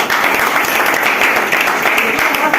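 Loud, sustained applause from a crowd at a company talk, steady dense clapping filling the whole stretch without a break.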